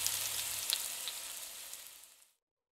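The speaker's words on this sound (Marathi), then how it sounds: "मी एकच पुरी तळून घेतली आहे" A single spinach puri sizzles steadily in a small amount of hot mustard oil, a bright, dense crackle with a few sharper pops, fading out abruptly after about two seconds.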